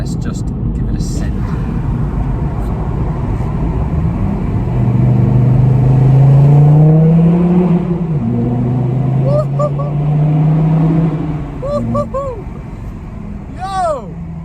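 A Volvo C30 with newly installed big brake calipers accelerating hard, a loud engine rumble climbing through several gears with rising then falling pitch sweeps, and brief higher whines near the end.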